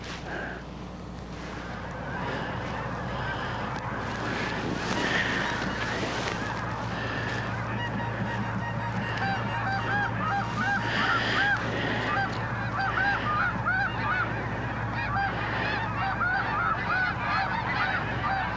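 Geese honk repeatedly during a goose hunt, a chorus of calls from several birds growing busier and closer over a low steady hum of wind or engine noise.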